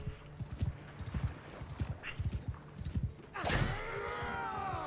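Horse hooves clip-clop in a rhythmic run of hoofbeats in the Bannerlord video game, followed by a sudden whooshing rush of noise.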